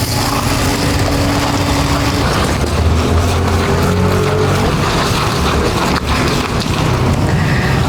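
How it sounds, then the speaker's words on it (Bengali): Water is poured into a hot pan of frying gutum fish curry, producing a loud, steady, close sizzling roar that fills the whole stretch without any talking. "এবারে দিয়ে দিচ্ছি জল"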